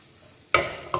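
Onions and garlic are stirred in a hot pan, with two short sizzling scrapes, the first louder, after a half-second of quiet low hiss.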